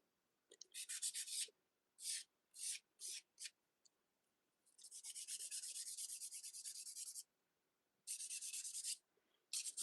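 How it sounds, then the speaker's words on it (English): A nail file rubs across fingernails to file them straight, giving close, bright, raspy strokes in quick short bursts, then a long continuous stretch of filing, a pause, and further strokes, with no talk. "Filing straight."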